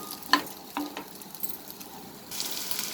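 Chopped onion sizzling in a hot pan for an onion chicken fry, with soft crackles and a few sharp pops, then a steadier, louder sizzle near the end.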